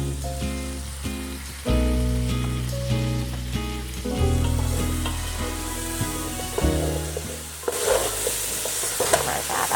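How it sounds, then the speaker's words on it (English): Potatoes and carrots frying in a pan for a Korean gochujang stew, a steady sizzle with repeated clattering stirs and scrapes near at hand, growing to a louder hiss near the end, with no talking. "Fry that up a little bit"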